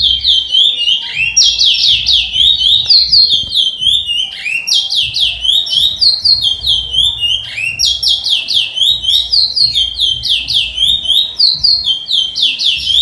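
A breeding male songbird sings loud, repeated bright phrases of chirps and trills, near and continuous with brief pauses between song bursts, no talk over it.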